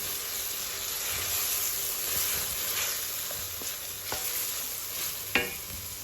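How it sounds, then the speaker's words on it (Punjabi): Onion, garlic, ginger and tomato masala paste fries in oil for an aloo papad curry, a soft continuous sizzle with occasional spoon scrapes and a sharper knock near the end, close and fairly quiet. "ਇਹਨੂੰ ਆਪਾਂ ਚੰਗੀ ਤਰ੍ਹਾਂ ਭੁੰਨਾਂਗੇ"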